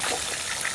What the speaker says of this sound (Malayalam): 3 ഗ്ലാസ് വെള്ളം ഒഴിക്കാം